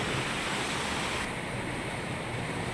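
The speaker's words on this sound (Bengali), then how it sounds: "এত জোরে বৃষ্টি হচ্ছে যে আসলে জানালা খুলে আমি মোবাইলটা ধরতে পারছি না" Heavy rain with strong gusty wind pours down in a dense, roaring wash outside a window, steady and loud, with no talking.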